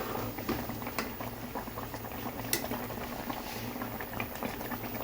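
A pot of fish curry, a chepala pulusu with cumin and garlic, bubbles at a steady boil, with soft continuous popping and gurgling and a few sharper blips, close and fairly quiet.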